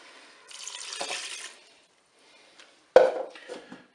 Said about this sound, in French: Je vais verser mon bouillon.